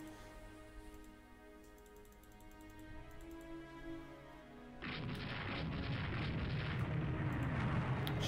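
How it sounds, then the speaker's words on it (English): Shells strike a warship in the naval strategy game Rule the Waves 2: after several seconds of quiet tonal background, a dense, loud roar of impacts and blasts bursts in and keeps rumbling to the end. "She just got hit by two shells."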